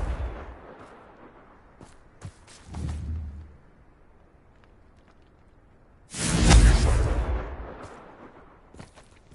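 A Confringo blast spell from the Hogwarts Legacy video game bursts as a loud explosive boom with a crackling roar partway through, after a softer rumble and several sharp clicks and impacts earlier.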